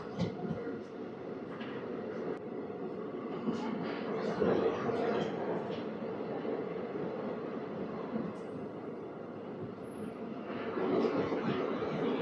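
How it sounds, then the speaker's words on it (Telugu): Visakhapatnam–Machilipatnam Express leaving Duvvada station, a continuous low rumble and clatter of the moving train with intermittent clicks and a swelling roar near the end, heard from inside over about twelve seconds. "మన ట్రైన్ వచ్చేసరికి దువ్వాడ స్టేషన్ నుంచి స్టార్ట్ అయిపోయింది 10:47కి"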